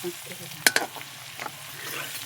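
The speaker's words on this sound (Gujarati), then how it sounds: "નાખી દઈશું આદુ લસણની પેસ્ટ ચમ ચમ ચમ બોલવા માંડ્યું છે હો તેલ નાખી દીધું" Ginger garlic paste dropping into hot oil in a home kitchen pan, giving a short burst of sharp sizzle with stirring scrapes, then a low steady frying hiss.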